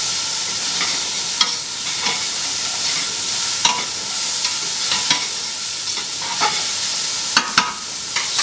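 Veal pieces for ossobuco roast golden in a pan, giving a steady, close sizzle and hiss throughout with scattered clinks and scrapes of stirring.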